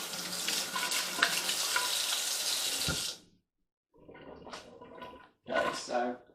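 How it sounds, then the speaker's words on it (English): Hands are washed under a running kitchen tap: a close, loud gush of water for about three seconds, then silence, followed by shorter splashing bursts and a voice. "so wash hands again"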